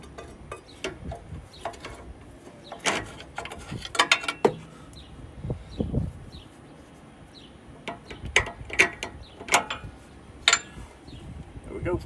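A pry bar working suspension parts while fitting Bilstein 5100 shocks to a Chevy Silverado 3500, heard as scattered sharp metallic clanks, ticks and scrapes in irregular bursts up close, with a voice at times.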